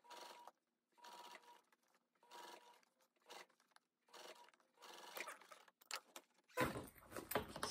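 Sewing machine stitching a zipper into a backpack, several short bursts of rapid mechanical whirring separated by brief pauses, close and fairly quiet, ending with a louder rustle of fabric.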